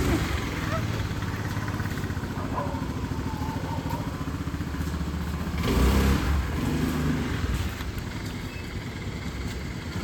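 Scooter ridden indoors, its small engine puttering and clattering steadily, rising briefly around the middle; voices are heard nearby.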